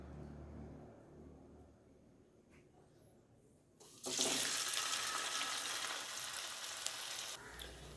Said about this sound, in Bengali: এইভাবে ময়দা ডাস্টিং করে নেব আর তেলের মধ্যে দিয়ে দেব।